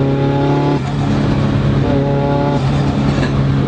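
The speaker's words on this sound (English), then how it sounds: "It also has the most stereotypical blow-off valve noise of all time." A turbocharged Nissan 240SX engine revs loudly up close, with a rushing, hissing blow-off valve release between the rising and falling engine pitches.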